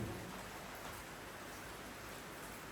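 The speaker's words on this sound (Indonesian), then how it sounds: "mumpung lagi hujan." Rain falls steadily as an even, soft wash of hiss with no distinct drops, faint and constant throughout, and no voices.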